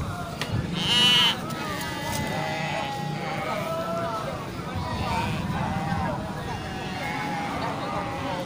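Goats and sheep bleat over a busy, crowded livestock market background with people talking; several overlapping animal calls rise and fall throughout.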